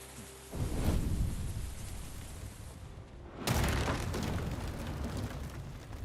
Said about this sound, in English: Now he's gonna ignite the stuff and blow up the shipyard.